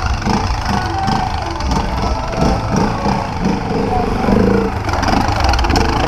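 A Honda XRE motorcycle engine runs steadily nearby, a continuous loud motor drone with slight variations, mixed with outdoor background noise.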